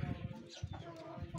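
Pigeons coo softly in a loft, with low, murmuring throaty calls repeating over a brief moment, faint and close.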